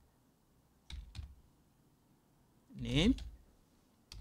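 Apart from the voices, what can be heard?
typing commands on a computer keyboard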